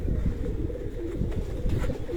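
Domestic pigeons at a breeder's home loft coo nearby in deep, rolling, repeated calls, steady and fairly loud, with no voices.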